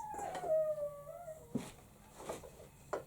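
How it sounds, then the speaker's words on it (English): A dog's drawn-out howling whine slides downward, followed by a few short yips and whimpers, fairly close and moderately loud. "Oh, the dog's talking."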